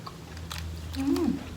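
Freshly picked winged termites are chewed close up, giving soft crunching and mouth sounds over about a second and a half, with a brief voiced sound near the end.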